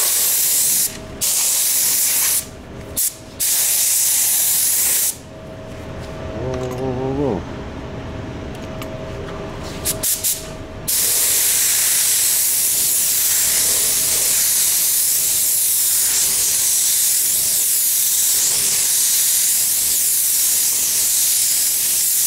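Spray gun spraying a blend-coat transition paint solution, a loud continuous hiss in long bursts separated by short pauses, with a quieter stretch midway where someone speaks briefly before a long unbroken spray.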